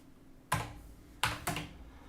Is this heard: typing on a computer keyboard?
yes